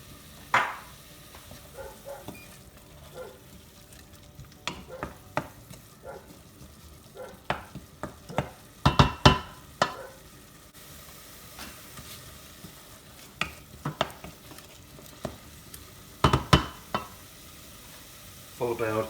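Minced garlic sweats with salt in a pan in a low, steady sizzle, broken by frequent sharp clinks and scrapes of stirring at an uneven pace.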